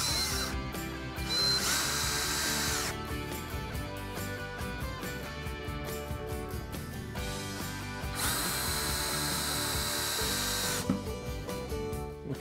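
A power drill drives deck screws into wood for a footstool build, whirring steadily and loud with short pauses between screws and bursts of higher-pitched spinning.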